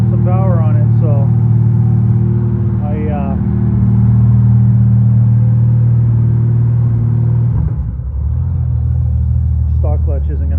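Engine of a custom 1989 Honda Goldwing GL1500 motorcycle with a slipping clutch, held under power as a steady, loud, deep rumble that dips briefly near the end, while someone talks over it.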